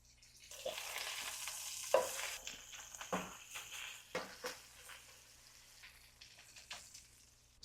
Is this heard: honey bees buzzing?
no